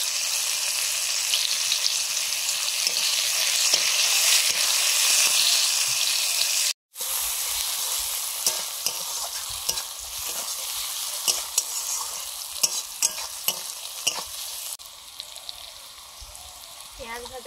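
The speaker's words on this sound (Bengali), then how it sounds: "পেঁয়াজ ভাজা হয়ে গেছে" Chopped onions sizzle in oil in a pan while being stirred, giving a steady close crackle with scraping strokes. After a brief cut, the frying continues more quietly with scattered stirring clicks.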